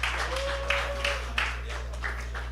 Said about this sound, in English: can we give again a big hand of applause for our great speakers today?